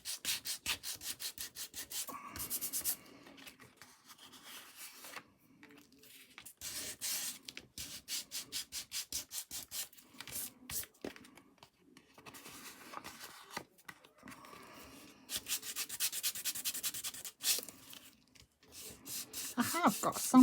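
A nail file rasps back and forth along the edge of a paper tag in quick rhythmic bursts, close and fairly quiet, broken by pauses with soft handling noises and someone talking between strokes.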